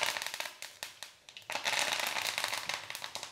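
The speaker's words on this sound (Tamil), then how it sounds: "இப்போ கடுகு வெடிச்சிருச்சு, கருவேப்பிலை போட்டுக்கலாம்." Mustard seeds splutter and pop in hot sesame oil for a ginger chutney tempering, giving quick sharp crackles in irregular bursts and then a denser run of popping, close and fairly loud.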